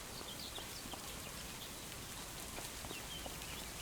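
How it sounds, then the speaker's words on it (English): Steady soft rainfall in Farming Simulator 25 patters continuously, a fairly faint even wash of drops with no voices. "it's raining"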